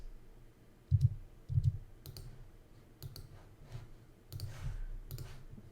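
A few sharp computer mouse clicks in a quiet room, two distinct clicks close together early on and then softer taps and faint handling noise, heard alone at close range while working in modeling software.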